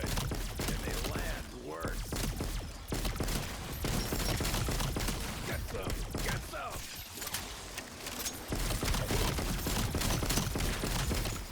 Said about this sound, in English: It does feel nice to shoot some zombies, though.